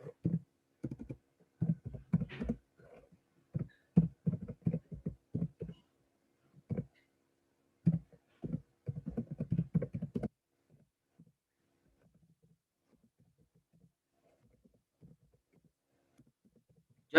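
Keys clatter on a computer keyboard in quick irregular bursts of close, soft taps, with pauses between runs, then fade to scattered faint clicks.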